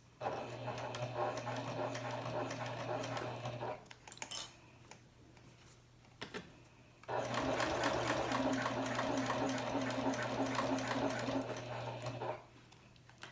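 Janome HD9 sewing machine stitching at medium speed with a stitch length of about 4 and heavy thread, running in two steady whirring bursts with a short pause and handling noises between, close and alone.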